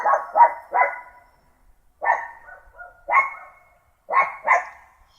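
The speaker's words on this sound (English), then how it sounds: "It is a dog." A dog barks in three short bursts of two or three loud, close barks each, separated by brief pauses, with no other sound around it.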